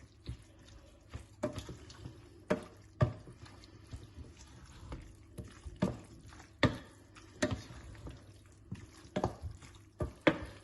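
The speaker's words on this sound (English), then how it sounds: "Give it a good mix. You want all the pasta coated in the lovely sauce." Pasta is mixed through a bolognese sauce with a utensil, giving a run of soft, wet squelches and sharp scraping clicks spaced irregularly, close and fairly quiet.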